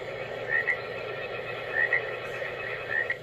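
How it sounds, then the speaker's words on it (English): The frog setting of a white noise sleep machine gives three evenly spaced double croaks against a constant hiss background, looping with a steady rhythm. "We have the frog,"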